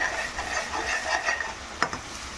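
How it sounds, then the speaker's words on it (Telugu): Sliced onion frying in a pan with turmeric and salt for a seafood fish fry masala, giving a steady close sizzle with a soft stir and a brief scrape near the end. "ఉల్లిపాయ సగం వేగింది"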